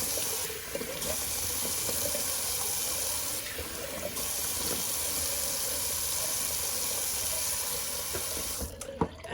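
Cold tap water runs steadily into a sink for a rinse during a wet shave, a continuous close hiss with a few small splashes, ending abruptly near the end.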